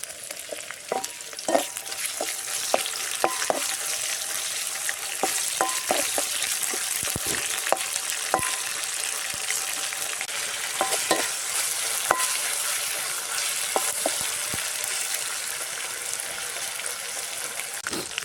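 Garlic frying and being stirred in a pan for spicy Korean ramen, a continuous close sizzle with scattered scraping clicks from the stirring utensil and no talk.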